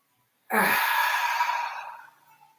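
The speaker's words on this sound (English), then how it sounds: "And breathe in." A single slow inhalation during a tai chi warm-down, a soft breathy rush that begins abruptly and fades gradually over about two seconds, close and fairly quiet.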